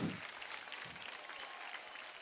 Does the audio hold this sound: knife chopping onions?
no